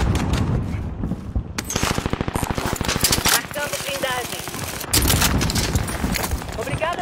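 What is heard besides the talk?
gunfire in the video game Call of Duty Warzone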